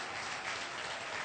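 Brief burst of congregational clapping in a church service, a dense wash of many hands heard at a distance and fairly faint, steady for about a second without talk.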